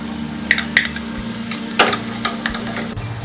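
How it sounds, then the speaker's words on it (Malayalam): Chopped shallots sizzle in hot oil in a pan for a fish curry with coconut milk, a steady frying hiss close up with intermittent scraping stir strokes and light utensil taps. "ഇനി കുറച്ച് ചെറുള്ളി അരിഞ്ഞിട്ട് ഇട്ട് കൊടുക്കാം."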